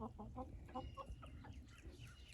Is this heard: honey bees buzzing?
no